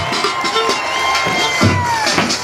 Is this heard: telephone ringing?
no